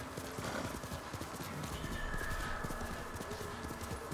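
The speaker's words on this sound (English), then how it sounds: "Horse a bit tired already. He running on unlimited sprint though" A horse gallops in Ghost of Tsushima, its hooves pounding in a fast, steady clip-clop rhythm over a dense, constant game soundscape.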